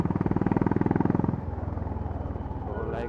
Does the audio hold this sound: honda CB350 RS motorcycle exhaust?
yes